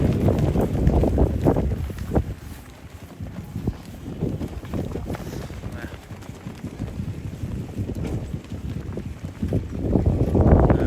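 Strong wind buffets the microphone at the Lakipadada road race circuit in Rantetayo, a steady low rumbling roar throughout with brief gusts swelling near the start and end, while a person talks over it.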